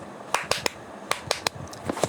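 Sharp hand claps or snaps made close up by a woman, a quick series of crisp, separate strikes in an irregular rhythm with no talking.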